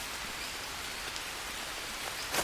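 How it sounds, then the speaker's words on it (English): Steady rain pours down in a video game rainforest, a dense continuous hiss with faint patter and a brief louder splash near the end, no voices. "It's called the rainforest for a reason, but why gotta rain so much?"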